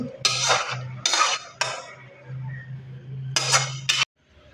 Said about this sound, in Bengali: এবার চিকেন কষাটাকে একটা পাত্রের মধ্যে ঢেলে নিচ্ছি